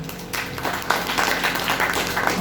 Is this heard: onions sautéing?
no